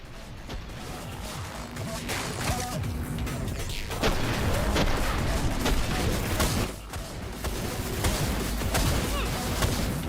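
Gunfire in the cyberpunk shooter Sprawl: a dense, loud stretch of rapid shots, crashes and clanks that barely lets up, with a voice mixed in.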